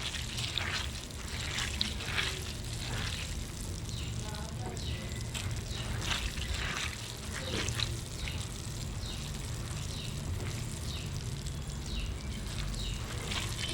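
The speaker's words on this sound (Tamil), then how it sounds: "பொரி தண்ணியில் போடும்போது ஒரு மாதிரி சுறுன்னு சவுண்டு வரும் பாருங்கள்" Puffed rice soaks in water for upma and gives off a soft, continuous fizzing crackle. The sound stays faint and close and runs steadily throughout.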